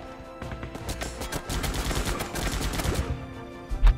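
Rapid gunfire rattles in the video game Guns Up, dense bursts of shots in quick irregular rhythm with a heavier thump at the end, fairly loud and without talk.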